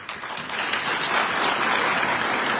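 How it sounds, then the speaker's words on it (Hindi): Audience claps in a packed hall at a political election gathering in Unnao, a dense, sustained wash of many hands, loud and steady throughout. "ताली बजा के अपने दिमाग को डिस्टर्ब मत करो"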